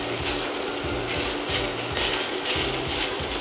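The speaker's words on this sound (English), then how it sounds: "So I am just going to chop this up" Knife chopping sweet Italian sausage meat, removed from its casing, into bite-sized pieces on a cutting board; a steady run of close, soft repeated chopping and rubbing strokes.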